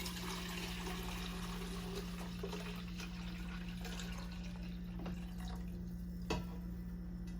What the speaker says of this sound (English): Now that it's strained, I'm going to pour it into this pitcher.